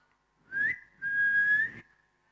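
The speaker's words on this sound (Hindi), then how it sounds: "जब मैं सीटी मारती हूँ ना तो लड़कों की लाइन लग जाती है" A woman whistles loudly and clearly in two sustained high tones, a short one followed by a longer steady note, with no talking around it.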